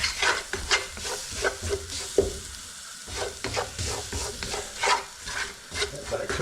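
Coriander powder, chilli powder, cumin and garam masala sizzle steadily in a hot pan for a soft cheese and mushroom curry, with occasional stirring scrapes and no talking.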